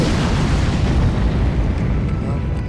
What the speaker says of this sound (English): can cast a spell with Fireball